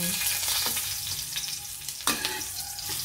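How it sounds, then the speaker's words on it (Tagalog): Garlic hits hot oil for fried rice, giving a bright, loud crackling sizzle with a few sharp pops and a scraping stir partway through, and no one speaks. "Ihulog na natin ang bawang"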